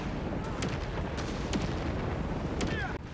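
Walking Stuka rocket barrage in the video game Company of Heroes 3, a rapid run of heavy booming explosions and artillery-like blasts over continuous battle noise.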